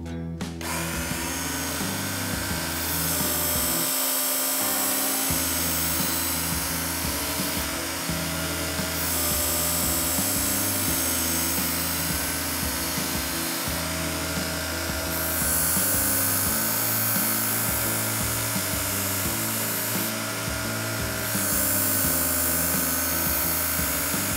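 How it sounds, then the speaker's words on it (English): A Work Sharp Original knife sharpener runs with a loud, continuous motor whine while a knife is inserted into its sharpening guide, the grinding rising in brief surges as the blade passes through. "it's likely because the machine is running when you insert into the sharpening guide"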